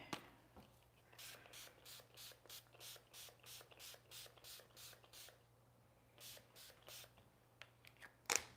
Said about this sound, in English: I'm gonna spray a little fixative on this because it's really bleedy.